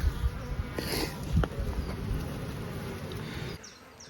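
Honey bees hum steadily at an open hive on a strong nectar flow during a weekly swarm inspection, a dense, close buzzing with a few louder passes near the microphone.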